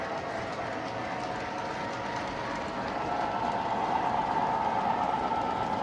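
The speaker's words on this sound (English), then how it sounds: "So now we've got 4 trains running." Four model trains run together on a track, giving a steady close rolling clatter and hum that grows slightly louder partway through.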